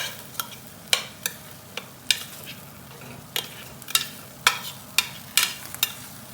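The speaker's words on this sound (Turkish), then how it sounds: "Bir kere daha karıştırdım" A spoon stirs a home-cooked dish partway through baking, giving a series of sharp, close scraping clicks spaced irregularly, about a dozen strokes over a quiet background.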